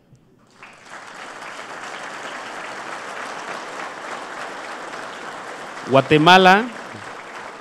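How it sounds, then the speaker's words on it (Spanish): A conference audience gives Guatemala a strong round of applause during an educational session, a sustained wash of clapping from many hands, with a brief spoken exclamation breaking in near the end. "brindemos un fuerte aplauso a Guatemala"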